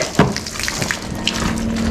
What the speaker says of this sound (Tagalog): Kinsa may nagpaaga sa tubig dire.